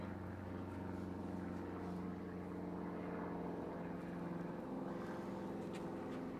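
A low, steady engine drone hums continuously in the background, like an airplane passing overhead, faint and distant with no talking.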